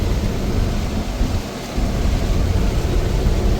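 Rain and thunder on an open road make a dense, continuous roar with low rumbling, loud and close, with no voices.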